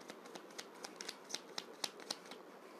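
Tarot cards are shuffled and drawn in a steady series of soft, crisp card flicks and riffles, close and quiet, with no talking.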